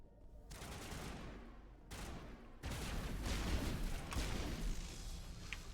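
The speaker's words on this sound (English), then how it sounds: "this pistol's way better." Bursts of gunfire from a pistol in Mass Effect sound in dense, rapid volleys, fairly muffled and blended with rumbling combat noise, with no pause in the action.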